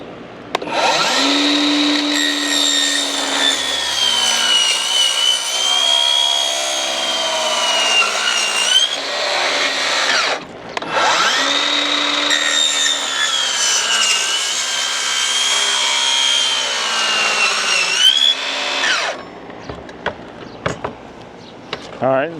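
Power saw cutting through a TimberTech Reliance composite stair rail for a stair railing install, two long loud whining cuts of several seconds each with a short pause between, followed by light handling clatter.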